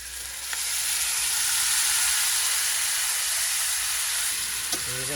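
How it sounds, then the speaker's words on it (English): Canned diced tomatoes hit a hot pan with garlic and onions and burst into a loud, steady hiss of sizzling that holds close and constant, with a brief clink near the end. "And you're going to grill the tomatoes up."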